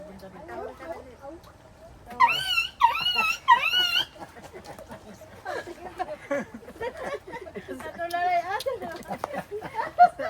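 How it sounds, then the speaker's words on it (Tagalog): Dogs whimper and whine in high, wavering cries, with a few rough growly sounds, heard off and on under people talking nearby. "siguro lang mga aso doon eh"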